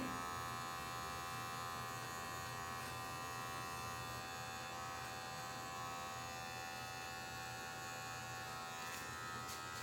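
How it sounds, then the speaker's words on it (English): An electric hair clipper hums continuously while cutting a bald fade, a steady close buzz with a whining tone that holds the whole time, with no talking over it. "Now I'm gonna close my clipper all the way and use the corner again."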